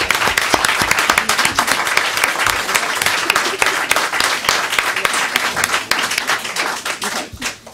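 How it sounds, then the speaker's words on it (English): A school board meeting audience claps steadily and loudly, a dense sustained wash of applause that fills the room and tapers slightly near the end. "so we can still keep clapping for 2 more minutes"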